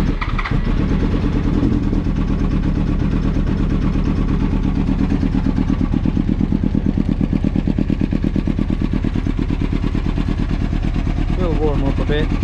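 A 2000 Yamaha R1 motorcycle, its leaking carburetors repaired, fires up and runs at close range with a loud, rapid, even throb that holds steady while warming up.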